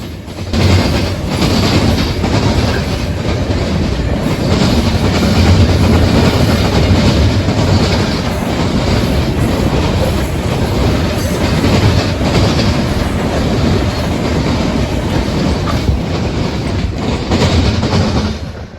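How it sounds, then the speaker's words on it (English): A Norfolk Southern local freight train led by a pair of former N&W SD40-2 locomotives thunders across railroad diamonds at an interlocking in Fostoria, Ohio, with a loud, steady rumble and rhythmic wheel clatter close by throughout. "Thundering across the diamonds would be Norfolk Southern Local L70"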